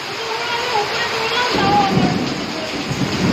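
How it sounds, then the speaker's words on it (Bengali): Rainwater pours down a staircase during a heavy morning downpour, a loud, continuous rushing wash close by, with a voice heard over it. "আমার সিঁড়ি দিয়ে জল পড়ছে, দেখো"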